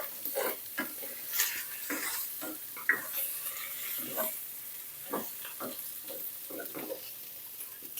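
Pumpkin pieces stir-fried in a hot pan over medium heat, with repeated scraping and stirring strokes over a continuous sizzle and no voices.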